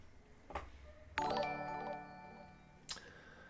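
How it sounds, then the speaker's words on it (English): A notification chime rings out once, a bright, ringing tone that decays slowly over about a second, set against quiet room background with a couple of soft clicks before and after. "I just heard a chime."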